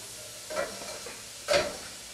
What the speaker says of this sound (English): we're going to be putting that in the hot oil